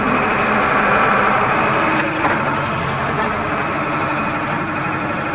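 TATA excavator diesel engine running loud and steady while the machine moves on a pipe-digging site, a dense continuous rumble with faint clanks near the middle and end.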